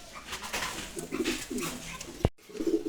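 Pigeons coo softly in a loft, with low murmuring calls repeating, then a brief sharp knock near the end.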